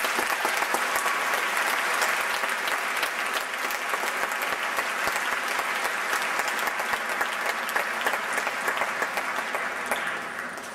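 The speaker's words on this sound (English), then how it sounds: "can I have a round of applause for all the student officers?" A large closing-ceremony crowd applauds student officers with a dense, loud, sustained roar of clapping that holds steady for about ten seconds before beginning to taper off at the end.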